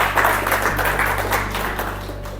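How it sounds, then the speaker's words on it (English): An audience at a Toastmasters club meeting gives sustained applause, dense steady clapping from many hands that carries on evenly and tapers only slightly toward the end. "Big round of applause to all of you."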